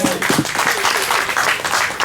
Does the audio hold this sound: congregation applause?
yes